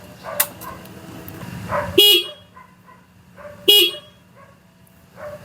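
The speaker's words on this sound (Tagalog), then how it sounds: "So gumana na din kanina yung ano natin, busina." Two short, loud horn honks from a Suzuki Raider R150 Fi motorcycle about two seconds apart, close by, over a low engine hum with faint background noise.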